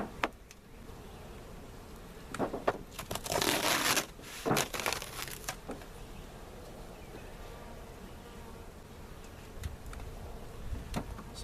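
Honeybees buzzing around a nucleus hive split from a larger colony, a steady hum punctuated by a louder burst of crinkling and rustling in the middle, with no voices.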